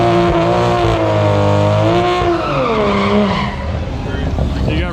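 Toyota Supra and Tesla Model S Plaid on 19-inch wheels drag racing down a quarter-mile strip, with a loud, close engine roar climbing in pitch and tires squealing throughout.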